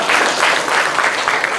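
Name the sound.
audience applause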